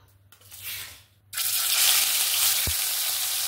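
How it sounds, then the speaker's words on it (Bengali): Hilsa fish pieces dropped into hot oil burst into a loud, steady sizzle after a brief quieter moment, frying continuously close up with a soft thud midway. "এবার আমি মাছগুলোকে হালকা করে একটু ভেজে নেব।"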